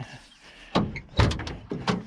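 Tailgate of a restored 1988 Chevrolet Suburban is worked shut, several solid metallic thunks and latch clunks in an uneven sequence, close and fairly loud against a quiet outdoor background.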